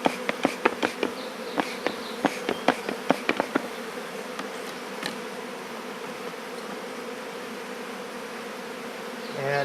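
Worker honey bees buzz steadily around an open hive during a spring hive split, a continuous low drone with scattered sharp buzzes of individual bees passing close early on, no talk.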